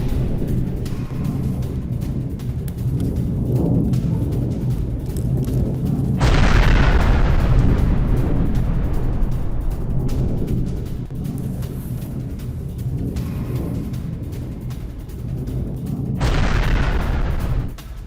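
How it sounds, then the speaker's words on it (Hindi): Explosions from Israeli air strikes in Lebanon, in the Bint Jbeil area, heard as a sustained rumbling barrage of blasts with two sharper booming impacts standing out, loud and continuous with no talk. "इधर हिजबुल्लाह के गढ़ में भीषण बमबारी की तस्वीरें हमने आपको दिखाई"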